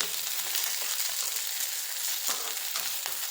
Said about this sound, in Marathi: तेलात मिरची छान फ्राय करायची.